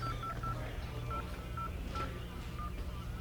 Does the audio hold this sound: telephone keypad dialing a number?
yes